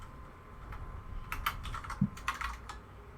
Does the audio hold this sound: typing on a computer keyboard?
yes